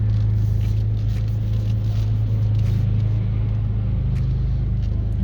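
A car circles its way up the spiral ramp of a Thai shopping mall car park, its engine holding a steady low rumble close by, with the tone lifting slightly near the end as it climbs.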